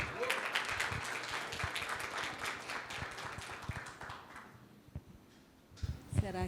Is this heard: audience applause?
yes